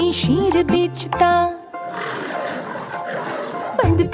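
A loud cartoon lion roar from a Hindi nursery rhyme: a rough, growling blast that swells for a couple of seconds between bursts of bouncy music.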